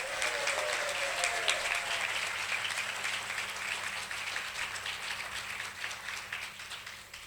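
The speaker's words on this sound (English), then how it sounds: "Can we have a round of applause for him, everyone?" A crowd at a graduation ceremony in Kolkata gives a trainer a steady round of applause, dense clapping sustained evenly throughout with no voices over it.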